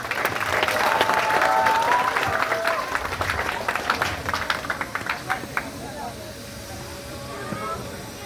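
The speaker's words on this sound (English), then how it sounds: "Let us welcome her with a round of applause" Audience at a school graduation applauding the class valedictorian, a loud sustained round of clapping that thins into scattered claps and fades, with faint voices underneath.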